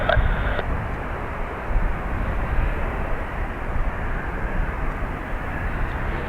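Jet airliner taking off at Dublin Airport, a steady broad engine roar that holds for several seconds at constant loudness, fairly near and heard alone with no talk.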